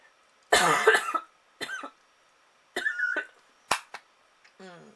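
Several sharp, close coughs come in separate bursts with short pauses between them, loud and dry, with no talking around them.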